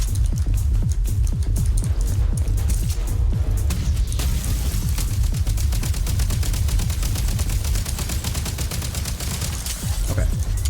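A grenade launcher fires repeatedly in an action video game, a rapid dense volley of sharp loud shots and bursts with no pause.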